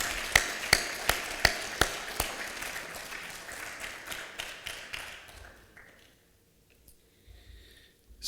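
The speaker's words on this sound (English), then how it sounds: "Maybe we can have one more round of applause, if you don't mind." Audience applause at the Evening of Roses gala, a few sharp claps up front giving way to a steady wash of clapping that thins and fades out toward the end.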